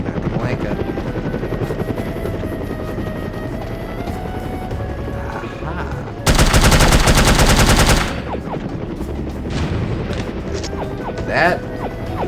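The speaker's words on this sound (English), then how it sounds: "That was a grenade launcher." Grenade launcher fire in No One Lives Forever: a loud, rattling burst of about two seconds cuts sharply through steady game noise, then a smaller bang follows a few seconds later.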